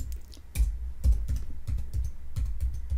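A catalog name is typed on a computer keyboard as a quick, close, steady run of key clicks with no one talking.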